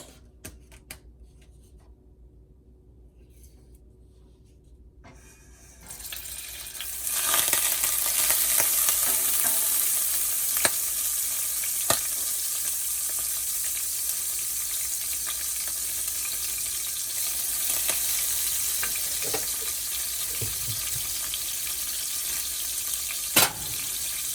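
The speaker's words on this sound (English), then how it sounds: "And I'm just gonna start by sauteing my veggies." Vegetables sauteing in butter and a little cooking oil for Jamaican steam fish with okra, a quiet start giving way to a steady, loud broadband sizzle with occasional sharp stir clicks and scrapes, no voices.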